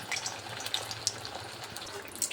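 Papad frying in hot oil in a wok gives a soft, steady crackle and fizz, with small bright pops scattered through it and no one talking.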